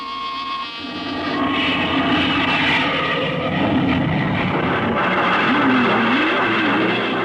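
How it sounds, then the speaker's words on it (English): Aircraft engine rising to a steady, loud roar for a takeoff in a 1950s radio drama, a broad sustained drone with a faint wavering whine, heard alone without voices. "Clear for takeoff, Charlie?"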